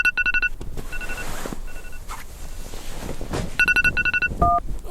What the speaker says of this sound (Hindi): बड़ी देर रात को फोन बज रहा था।